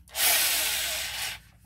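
A short burst of drilling with a monstrously long drill bit, a close, loud grinding hiss that starts abruptly, holds steady for just over a second, then cuts off.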